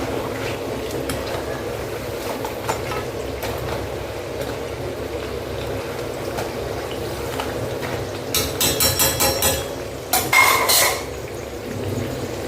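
Oil sizzles softly and steadily in a pan as sesame thattai snacks fry, then metal utensils clink and scrape against the pot near the end.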